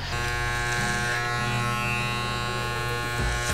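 An electric hair clipper cutting hair along the sides for a mohawk gives a steady, close, continuous buzz, with slight changes in pitch as it moves through the hair.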